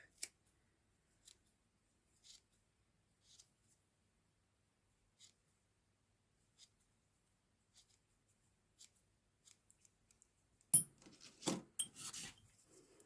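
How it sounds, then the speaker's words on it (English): Scissors snip loose scrap-yarn ends from a crocheted bead, with faint, evenly spaced single cuts followed by a louder cluster of close handling and snipping. "I'm just going to trim those off."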